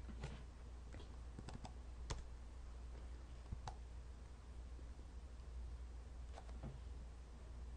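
A spreadsheet formula typed on a computer keyboard: quiet, irregular key clicks scattered over a steady hiss of room noise, with a few sharper taps standing out; no voices.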